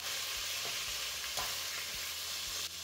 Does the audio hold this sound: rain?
no